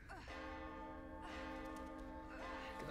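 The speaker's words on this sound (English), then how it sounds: "I guess as soon as I ring the bell" A large church-style bell in the horror game The Evil Within rings out three times at a slow, even pace, each ring long and resonant and overlapping the last, with low ambient rumble beneath and no talking.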